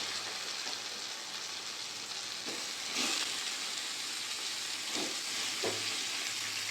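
Chicken being sautéed in spice paste for a Bengali chicken and potato curry, a steady broad sizzle throughout with a few soft stirring scrapes, close and alone without talk.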